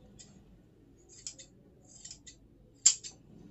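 Scissors cutting through stitched fabric, a few quiet close snips in an otherwise hushed room, with a sharper cut near the end.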